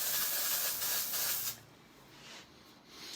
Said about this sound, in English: give it another hit of Undone Texture Spray